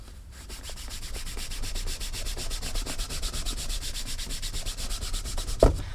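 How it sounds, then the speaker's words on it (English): A nylon cloth buffs vintage ostrich leather boots in quick, even back-and-forth strokes, making dozens of close, rhythmic rubbing swishes with a small knock at the end. "This nylon does a really good job on creating a lot of heat with the friction."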